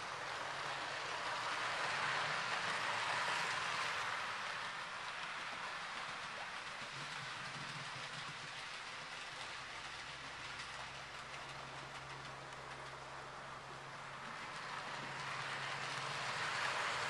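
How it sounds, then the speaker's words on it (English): Hornby model trains, two running at once on a layout controlled through a Sprog and a Raspberry Pi, give a steady rolling whir with faint rail clatter and a low motor hum, continuous and fairly quiet throughout. "we can control two trains at the same time"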